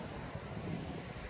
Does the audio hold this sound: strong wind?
yes